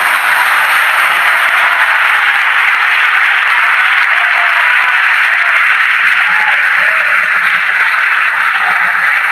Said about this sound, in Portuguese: Aplaude ao Senhor, aplaude ao Senhor.